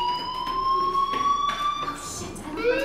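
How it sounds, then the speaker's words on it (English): School fire alarm ringing in the video game Life Is Strange, a steady electronic siren tone that sweeps slightly in pitch, with faint background movement beneath it. "Hey, do you hear that fire alarm?"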